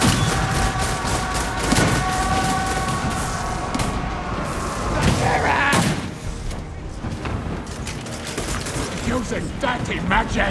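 Gunfire from Skaven warp gunners in a Warhammer 2 Total War battle against High Elves, a dense crackling fusillade with booming thuds under a steady clash of battle noise and musical tones.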